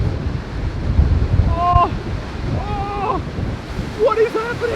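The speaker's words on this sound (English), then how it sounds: "These waves." Ocean waves and wind at the shore as a drone flies overhead: a continuous rumbling surge with gusty microphone buffeting, while a person exclaims briefly and faint high tones rise and fall above the roar.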